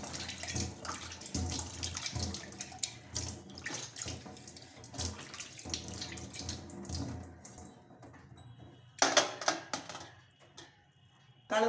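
Tap water runs and splashes while a brass utensil is rinsed, with scattered clinks and a burst of louder splashing near the end, fairly faint overall.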